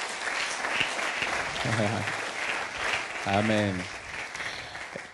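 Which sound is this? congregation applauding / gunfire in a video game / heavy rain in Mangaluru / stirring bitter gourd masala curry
congregation applauding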